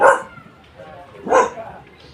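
Two short barks from a dog, about a second apart, fairly close and clear against a quiet background.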